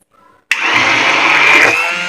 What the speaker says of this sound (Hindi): मैं ये ब्लेंडर की मदद से इसे स्मूथ कर रही हूँ।